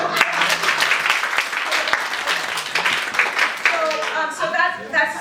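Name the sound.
audience applause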